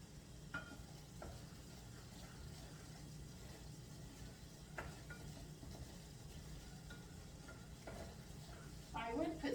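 Pork fat cooking in a pan for gravy, a faint, steady low sizzle with a few light clicks and a brief louder crackle near the end.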